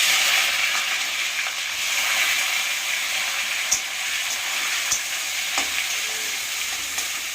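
Onions frying in hot oil with bay leaves and whole garam masala give a loud, continuous sizzle close by, broken by occasional stirring clicks against the pan, with no voices.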